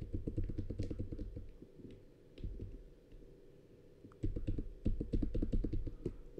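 Computer keyboard keys clack in quick, close bursts of typing and deleting, with a short pause in the middle, then more rapid taps and firmer presses like the Enter key.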